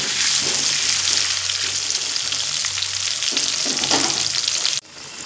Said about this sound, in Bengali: আলুগুলো কিন্তু একদম লো ফ্লেম করে ভাজবো